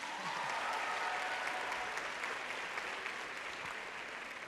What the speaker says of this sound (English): Let me hear you clap for them as well